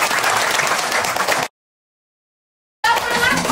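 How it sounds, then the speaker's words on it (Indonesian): A school class clapping together in a tepuk semangat chant, dense and loud for about a second and a half, then a complete dropout to silence before the clapping returns with voices over it. "Tepuk semangat."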